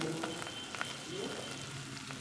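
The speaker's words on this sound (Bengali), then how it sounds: "তো পেঁয়াজটা একটু হালকা ভাজা ভাজা হবে" Onions and curry leaves frying in a pan for a light poha breakfast give a steady, close, soft sizzle throughout, with faint stirring and no clear talk over it.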